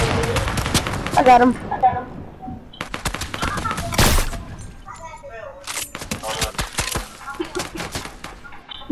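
Fortnite machine gun fire rattles in rapid bursts of sharp, close shots, pausing and resuming, with people talking between and over the volleys.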